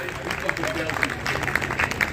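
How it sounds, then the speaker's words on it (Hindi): Listeners at a Hindi poetry gathering (kavi sammelan) in Shamshabad applaud, a crowd's clapping rippling steadily beneath a voice speaking over it. "भरपूर तालियों से स्वागत कीजिए भाई"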